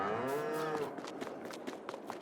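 Cattle moo in the Farming Simulator 22 video game, from a herd of Holstein and Brown Swiss cows: one long, clear moo opens the clip, followed by fainter shuffling and thuds of animals moving about.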